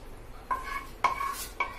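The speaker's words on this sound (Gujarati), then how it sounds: "કેરેમલ કરેલી ખાંડ નાખી દઈશું। મિક્સ કરી લઈશું।" A spoon stirs caramelized sugar into a milk mixture for Khambhat-style halwasan, giving three short scraping strokes against the pot, each with a faint metallic ring.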